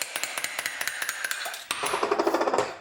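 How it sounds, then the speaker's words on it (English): Slide hammer knocking a cap off the suspension of a Corvette C8 during lowering work, a rapid series of sharp metallic clacks in steady rhythm, close and loud, then a faster run of ringing taps. "What you do is take this and just use it as a slide hammer,"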